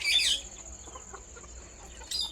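On a desi chicken farm, hens give a loud squawking cluck at the start and another brief call at the end, with a faint thin whine and quiet rustling between.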